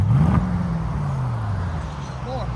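A 2025 Mercedes GLE 63 S with a 4.0L bi-turbo V8 and straight pipes revs once, its low exhaust note swelling early and then settling into a steady, droning hold, with faint voices nearby.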